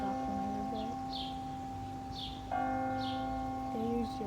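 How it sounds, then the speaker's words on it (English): Westminster chimes ring out from church bells, several struck tones sounding steadily at a distance over a sustained hum, with faint outdoor background and no talking. "They use their Westminster chimes too."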